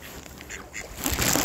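Ducks being fed beside water quack in a noisy cluster, close by and overlapping, with the splashy racket growing louder toward the end.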